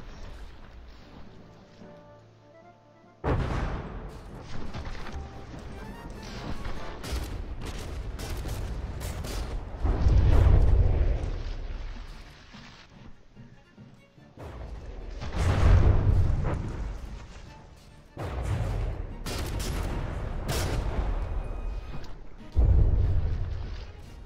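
Naval battle in the warship game From the Depths, with dense rumbling explosions and rapid gunfire volleys rolling in heavy waves, booming loudly at intervals.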